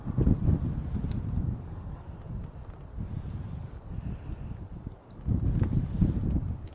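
Gusty autumn wind buffets a fishing boat on open water, rumbling in uneven surges that rise, ease off and build again, loud and close with no talking.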